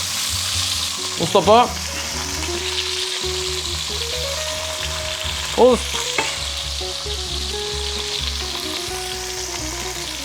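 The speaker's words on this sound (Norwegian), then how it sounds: "Freser er det godt her." Smash burger patties sizzle in a hot pan with a steady, loud frying hiss, broken by a couple of brief scraping clatters from a spatula; a voice speaks briefly over it.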